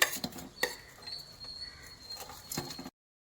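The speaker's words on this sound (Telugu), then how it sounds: "ఇలా ఫ్రై అవుతున్నాయి" Green chillies and onions frying in oil in a pan, a quiet crackle of oil broken by several sharp clinks and taps of a utensil against the pan, close and without talk.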